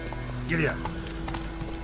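Horse hooves clip-clopping at a run in the video game The Witcher, quick muffled footfalls heard alongside a brief spoken voice and game background ambience.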